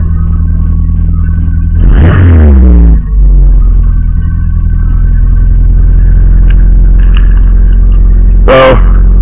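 A 1991 Acura Integra engine cranks with a brief whirring starter burst, catches and settles into a steady close-up idle rumble, with a short sharp noise near the end.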